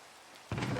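Rain starts falling in Minecraft, cutting in suddenly halfway through as a steady, close hiss of pattering drops after a quiet start.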